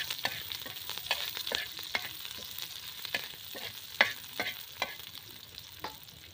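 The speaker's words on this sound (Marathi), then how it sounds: "आता पहिले कांदा भाजून घ्यायचा आहे आपल्याला।" Chopped onion roasting in a pan for a masala, sizzling steadily with repeated stirring scrapes at an even rhythm, close by with no talking.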